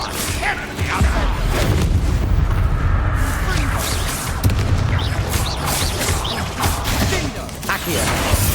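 Bombarda blasting spells from Hogwarts Legacy burst with heavy booms and crashing debris, several impacts in quick succession amid whooshing magic effects, loud and close, with a voice speaking over the action.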